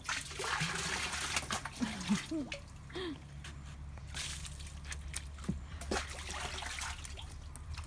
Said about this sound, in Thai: ล้างมือล้างเท้าล้างหน้า ล้างหน้าด้วยครับ